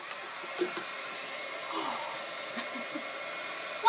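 A hair dryer drying chalk paste on a chalk transfer craft piece, a steady close blowing whir that runs throughout with only faint small knocks beneath it, and no talking.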